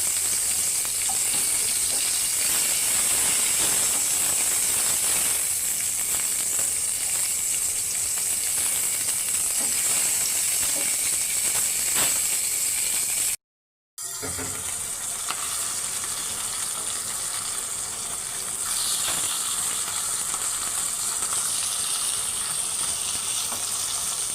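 Hilsa fish fries in oil in a pan, giving a continuous close hiss and crackle with occasional stirring scrapes and a brief break midway, with no voices.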